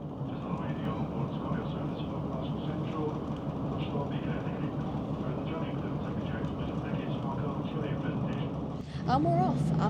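A passenger train on the Carlisle to Glasgow line via Dumfries pulls away, its engine and wheels giving a steady, close rumble heard from on board, with a voice speaking near the end.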